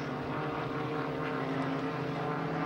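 Racing propeller planes roar past an air show pylon course in a steady, continuous drone, moderately loud and fairly distant, with no voices heard.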